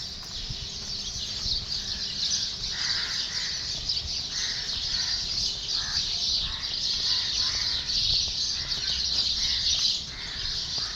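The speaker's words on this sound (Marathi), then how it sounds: "सकाळी सकाळी मंडळी मस्त चिमण्यांचा आवाज बघा ऐकू येतोय" Busy chirping of sparrows goes on continuously through an outdoor morning, many overlapping calls at moderate distance over a steady background hiss.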